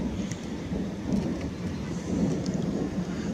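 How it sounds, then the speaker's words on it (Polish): Long, drawn-out rolling thunder in the Bieszczady mountains rumbles steadily with gentle swells, accompanied by a soft rain hiss in the background. "Fajny ten grzmot, taki przeciągły,"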